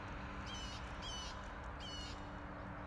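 A crow caws outdoors in three harsh bursts spaced about a second apart, moderately distant over a steady low background hum.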